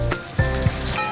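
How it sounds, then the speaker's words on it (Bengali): Slices of pointed gourd (potol) fry in hot oil, giving a dense, continuous close sizzle with a couple of brief louder crackles. No voices. "বন্ধুরা, পটলগুলো ভাজা হয়ে গেছে, এবার তুলে নেব।"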